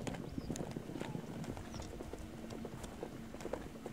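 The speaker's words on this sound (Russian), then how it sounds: "Кочевники скачут вслед за лошадьми." Wild steppe horses in Central Asia gallop with nomads riding after them, a fast, uneven drumming of hooves on open ground at moderate distance, steady throughout with faint background noise.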